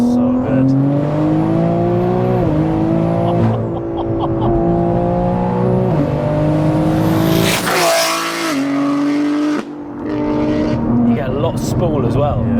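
A 1000+ bhp single-turbo BMW G80 M3 revs hard through several rising pulls with sharp gearshifts and a loud turbo whoosh, heard from inside while occupants talk over the engine.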